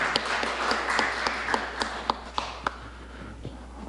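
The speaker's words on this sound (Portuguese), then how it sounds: "Vamos receber com palmas" Applause at a church lecture greets a visiting reverend, a fairly faint patter of scattered hands that soon thins into a few distinct, separate claps before dying away.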